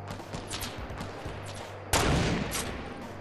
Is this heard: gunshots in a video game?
yes